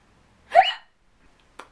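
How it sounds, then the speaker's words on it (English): A single sharp hiccup stands out, loud and close in an otherwise quiet room, followed about a second later by a much fainter second hiccup or catch of breath. "Oh, I have hiccups, of course."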